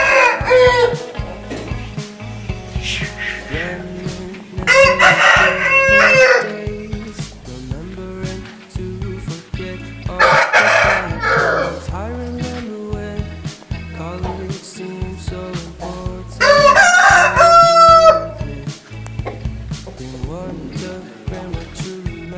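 Tamil Nadu breed roosters on a farm crowing loudly and nearby, with several long, drawn-out crows repeating across the stretch over steady clucking and other fowl chatter in the background.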